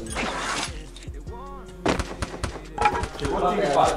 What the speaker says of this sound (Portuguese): Acertou dois tiros no cara e não deitou.